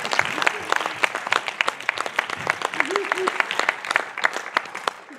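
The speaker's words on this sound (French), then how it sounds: "Là, ils méritent aussi un applaudissement" An audience at a film festival closing ceremony in Hendaye applauds the directors, producers and actors with dense, steady clapping that continues for several seconds, with a few voices faintly audible beneath it.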